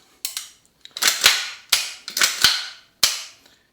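Sharp, loud gunshots from a CZ Scorpion fitted with a binary trigger, five or six cracks in quick uneven pairs, close by and each ringing out briefly, no voices.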